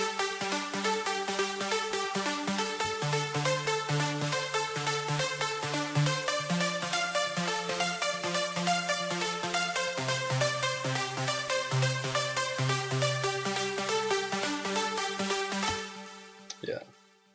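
Layered uplifting trance pluck synths made in FL Studio 11 ripple in a fast, steady arpeggiated pattern over a low bassline, bright and continuous until they cut off near the end.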